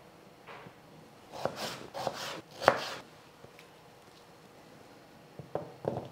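A knife cuts potatoes into small squares on a board in a short burst of sharp, close chops, then goes quiet, then gives a few more scattered cuts near the end.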